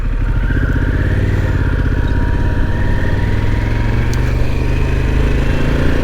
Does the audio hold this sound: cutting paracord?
no